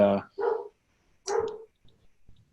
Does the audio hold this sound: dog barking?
yes